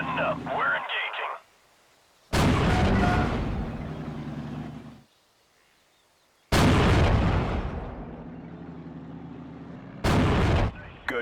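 Tank battle in Steel Division: Normandy 44 against German armor such as a Panzer IV: three loud, booming blasts with gunfire, each trailing off, separated by quiet stretches, with radio-style voices talking at the start.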